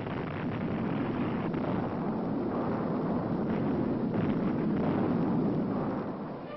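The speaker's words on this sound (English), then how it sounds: "Explosions rocked the canyon almost daily for 2 years" A continuous, heavy rumbling roar of dynamite blasts echoing through a canyon during Hoover Dam construction, with no distinct separate blasts, fading slightly at the end.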